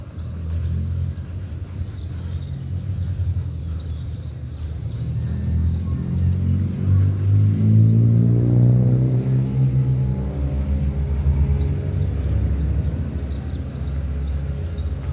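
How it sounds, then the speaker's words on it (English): A motorbike taxi engine on a busy Pattaya street revs up with a rising, throaty drone over steady traffic rumble, loud and close, then settles back into a continuous hum. "And they got the motorbike taxi."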